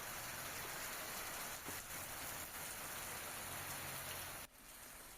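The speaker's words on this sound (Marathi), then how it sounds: "अहमदनगर जिल्ह्यात गेल्या 2 दिवसांपासून मुसळधार पाऊस बरसतोय" Steady, dense downpour of heavy monsoon rain in Ahmednagar, Maharashtra, pattering continuously on surfaces, loud and close, with a slight drop in intensity near the end.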